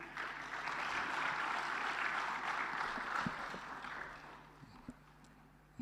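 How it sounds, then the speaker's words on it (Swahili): Crowd applause at a formal state ceremony where the Controller and Auditor General hands a report to the President of Tanzania, a sustained dense clapping that fades toward the end. "Makofi tena mengi."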